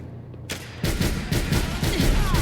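Smith and Wesson R8 revolver fired in a Fallout 4 mod: loud, rapid, overlapping gunshots burst in quick succession after a brief quiet start, forming a dense, sustained barrage up close.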